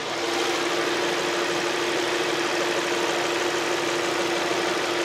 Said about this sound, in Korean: 엔진 소리 바로 들려드릴게요.